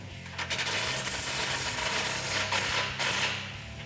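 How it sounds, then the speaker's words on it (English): Steady ratcheting clicks from a ratchet wrench with a 19mm socket tightening a skid plate bolt on a Jeep Wrangler JK, close and continuous, rapid mechanical clicking with a few louder strokes. "we'll just use a 19mm socket to tighten up the outside"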